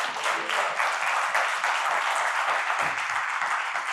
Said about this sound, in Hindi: क्यों ना ताली बजाएं प्रभु के लिए।